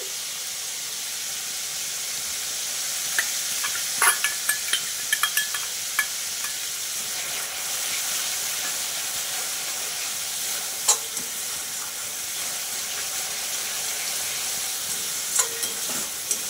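Spice paste with salt and turmeric frying and being stirred in a pan for parshe fish curry: a continuous close sizzle and hiss broken by sharp clicks and scrapes from the spatula, with no talking.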